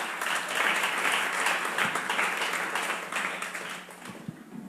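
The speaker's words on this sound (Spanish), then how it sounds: "Aplaudimos al Señor." A church congregation applauds in praise of the Lord, a dense wash of clapping that holds steady and then thins and fades toward the end.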